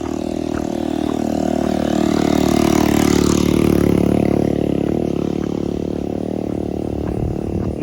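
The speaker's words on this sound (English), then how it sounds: "let's wait for this little motorbike to go by." A motorbike engine drones loudly nearby, swelling as it passes and gradually fading, with steady outdoor traffic noise and no voices.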